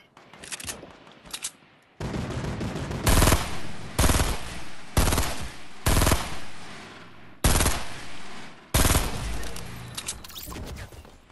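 Rapid automatic gunfire in Fortnite, loud and close, coming in several sustained bursts separated by short gaps, with heavy crackling shots and no speech over it.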